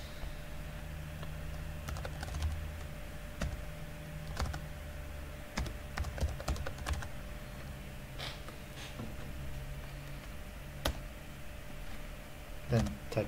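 Computer keyboard typing while entering a SQLCMD command to connect to SQL Server: scattered clicky keystrokes in short bursts and single taps over about thirteen seconds, close and fairly quiet, with a voice speaking throughout.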